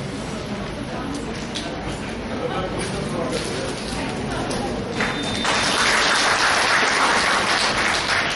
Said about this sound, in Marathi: या दोघांसाठी आपण जोरदार टाळ्या वाजवूयात